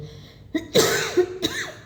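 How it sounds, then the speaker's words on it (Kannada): A single sharp cough bursts out close to the microphone, followed shortly by a second shorter cough, with no talk over them. "ಸ್ವಲ್ಪ ಕೆಮ್ಮು ಅಡ್ಜಸ್ಟ್"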